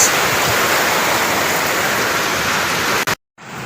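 Heavy rain sprays down hard, a dense, unbroken roaring hiss that fills the whole stretch before cutting out briefly at the very end.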